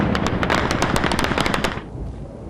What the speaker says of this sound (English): the insurgents fired wildly with their AK-47s